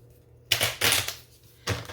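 A deck of stiff, heavy-paper playing cards sealed in 5 mil laminate is riffle-shuffled up close, giving a few short, crisp flurries of fluttering snaps separated by brief pauses.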